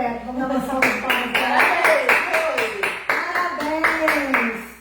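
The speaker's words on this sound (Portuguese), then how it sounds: "Vamos dar uma salva de palmas." On a Brazilian TV variety program, a studio audience claps in a rhythmic round of sharp, regular beats, loud and close, while a voice speaks or sings over the clapping throughout.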